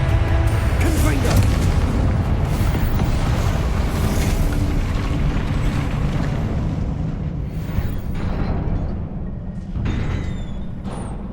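A blasting fire spell bursts in the Hogwarts Legacy video game: a dense, rumbling boom runs through most of the stretch with game music and a speaking voice over it, then fades toward the end.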